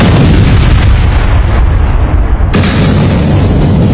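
A massive, close explosion effect depicting the 1986 Chernobyl reactor 4 blast: a deep, sustained rumbling boom at full loudness, followed by a sharp second burst of blast noise near the end.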